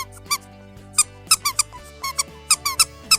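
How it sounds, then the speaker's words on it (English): Squeaky rubber duck toys in three sizes give a string of short, loud, high squeaks in an irregular rhythm, each squeeze distinct and close. "And they squeak."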